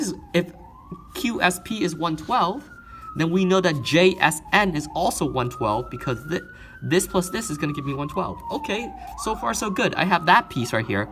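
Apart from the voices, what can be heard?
police sirens outside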